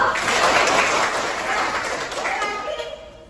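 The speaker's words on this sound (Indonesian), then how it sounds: "Tepuk tangan dulu." A classroom full of students claps steadily for a few seconds, the applause dense and close, thinning slightly toward the end.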